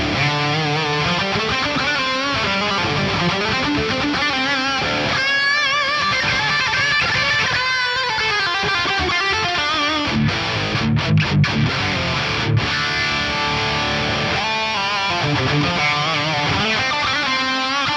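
An electric guitar played through a Nano Cortex pedal sounds loud and continuous, with distorted chords and lead lines whose gain, mids, reverb and delay swell and morph under an expression pedal.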